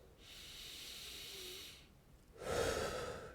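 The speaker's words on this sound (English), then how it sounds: "I'm going to breathe in through my nose" One person breathes in slowly through the nose with a long soft hiss, pauses, then exhales more forcefully through the mouth in a louder airy rush, close to the microphone.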